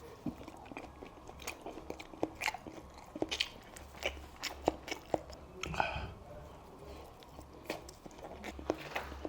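Close, crisp bites and wet chewing during a mukbang of pork cutlet and sushi, a series of sharp crunches and irregular mouth sounds recorded at close range.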